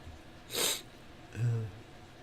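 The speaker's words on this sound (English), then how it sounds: "As I sniffle." One person sniffles twice, close to the microphone: a sharp breathy sniff, then a softer nasal snort about a second later, against a quiet room.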